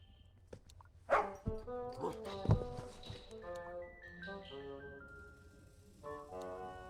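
Dog barking in The Little Acre video game, several sharp barks early on over game music and effects, with a person talking.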